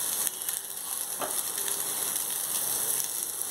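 Cauliflower and potato pieces fry in a pan with salt and turmeric, giving a steady close sizzle with faint stirring scrapes throughout and no voices.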